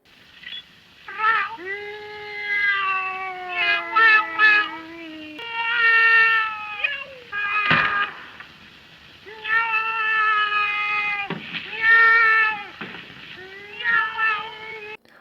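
Long, drawn-out meows and yowls, voiced by people imitating cats, come in several wavering calls with brief pauses, close and fairly loud.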